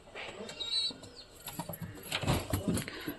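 Pigeons in a loft, including a newly added bird, coo softly with bursts of wing flapping and shuffling, close and moderately loud, with no talk.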